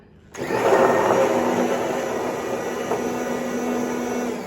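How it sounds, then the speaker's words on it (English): An immersion blender whirs steadily as it blends homemade mayonnaise, starting abruptly and holding a loud, even motor drone close by with no talking. "we'll start raising the immersion blender up a little bit at a time"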